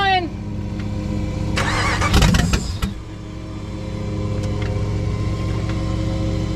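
A Dodge Ram trash rod cranks and fires up, a brief burst of starter whir and catching engine before settling into a steady idle rumble, with voices around it.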